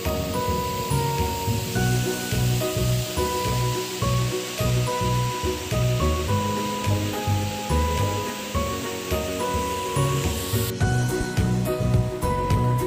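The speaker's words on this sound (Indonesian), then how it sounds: "Oke, saya akan coba dekati air terjunnya." A powerful waterfall, Curug Citambur, roars continuously with dense rushing spray, loud and close, steady throughout without any voices.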